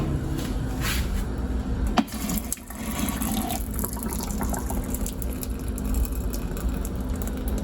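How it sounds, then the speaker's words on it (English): Water poured off halfway-cooked chili meat from a pot, with the lid held slightly ajar; a steady, close liquid splashing and draining runs the whole time, with a brief clatter near the start. "I usually just hold the lid on top and just give it a little bit of room to pour the water off"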